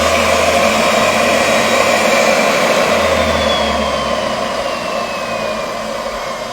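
A valve refacing machine grinds the sealing face of a Lancia Fulvia engine valve, giving a steady, loud whirring hum with a faint high whine that runs unbroken throughout.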